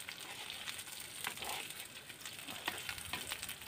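Food cooking in a pot at a night campsite up a tall tree, stirred and mixed with a steady sizzling hiss and scattered scraping stirs, fairly quiet and close, with no voices.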